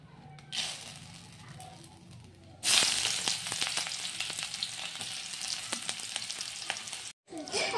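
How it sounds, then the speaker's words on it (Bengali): Soya chunks and potatoes frying in a pan, starting with a faint sizzle and then breaking into a loud, steady crackling hiss full of small pops that runs on to a brief cutoff near the end. "আজকে সয়াবিন আলু রান্না করছি।"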